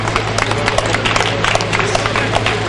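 Audience applause welcoming a poet at a Hindi kavi sammelan, a steady, loud wash of clapping from a seated crowd that keeps going without a break.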